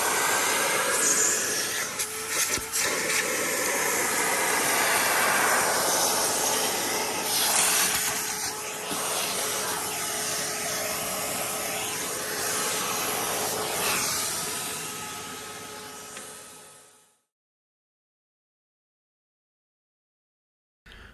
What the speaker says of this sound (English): Clean up with the vacuum cleaner and we're done